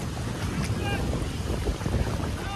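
Motor boat engine droning steadily during a Navratri goddess idol immersion on open water, its hum partly buried in heavy wind rumble, with no clear voices.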